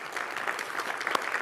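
Audience applause at the PyCon AU 2024 Python conference opening, a steady wash of many hands clapping together in a hall, sustained and even throughout with no voices over it.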